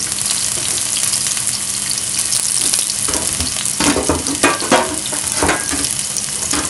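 Garlic and onion fry in plenty of oil for squid adobo, a loud, steady close sizzle with stirring scrapes breaking through near the end, with no talk.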